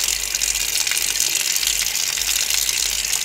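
Shower water runs at low pressure, giving a steady, even hiss and patter that stays constant and fairly close throughout, with no voices.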